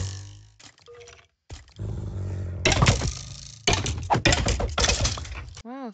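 A voice imitates an animal growl in loud rough bursts, broken by short gaps, with game sounds around it.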